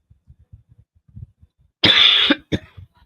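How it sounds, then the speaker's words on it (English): A burst of harsh coughing, two or three close coughs in quick succession, after some faint tapping sounds. "now I'm coughing"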